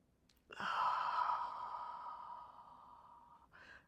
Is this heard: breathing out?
yes